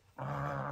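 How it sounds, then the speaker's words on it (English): A service dog lets out a low, rumbling growl that starts abruptly after a short quiet moment and holds steady, close and fairly soft, with no talking over it. "That's a service dog there."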